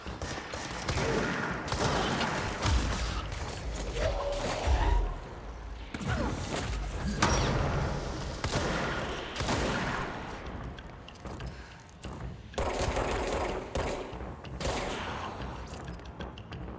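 A loud, dense burst of rapid gunfire and heavy impacts rips through a firefight in the video game Control, with shots overlapping almost nonstop and only brief dips.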